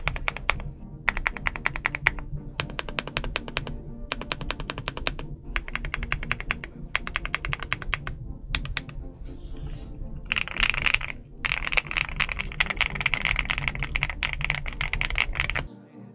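Kzzi K75 Lite mechanical keyboard with Rain linear switches and plate-mounted stabilizers being typed on: dense bursts of close keystroke clacks separated by short pauses, steady and moderately loud with no voices.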